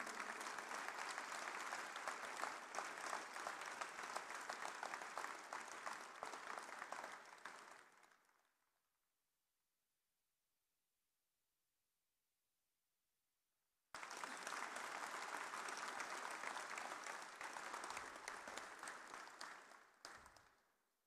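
Applause from a large crowd at a marathon and 5k/10k run prize ceremony, sustained dense clapping that fades out around the eight-second mark, then after several seconds of silence resumes abruptly and continues before tailing off.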